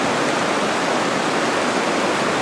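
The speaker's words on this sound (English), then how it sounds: "It's got a riffle coming into the top, and it's pretty heavy with the water up." High creek water rushing heavily through a riffle on Eagle Creek, a loud, steady broadband roar heard close and continuous, with no voices.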